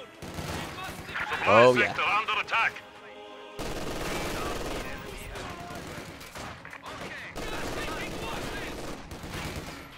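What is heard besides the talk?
MG42 machine gun firing at conscripts, from a video game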